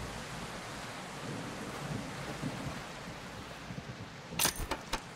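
Rain and thunder in the survival game Project Castaway: a soft, continuous patter of rain with low rolling rumbles, then a few sharp clattering hits near the end.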